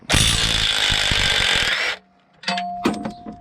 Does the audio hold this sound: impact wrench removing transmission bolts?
yes